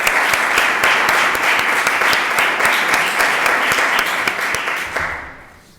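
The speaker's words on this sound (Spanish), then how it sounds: "Desde aquí nuestro aplauso." An audience at a scientific innovation conference in Bilbao claps for an award, a dense, steady wash of applause that holds strongly for several seconds and then fades out near the end.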